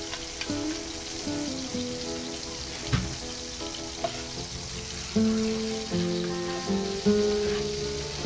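Garlic sizzling and crackling in browning butter for a swordfish and caper sauce, a steady close frying hiss with scattered pops and faint stirring clinks.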